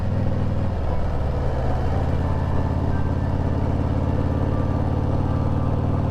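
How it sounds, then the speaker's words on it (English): Car tires rolling over small rumble strips at hiking crosswalks on a winding mountain road up Mount Greylock, heard as a steady close engine and road rumble with a rhythmic buzzing texture throughout. "They put these little rumble strips in for the hiking crosswalks."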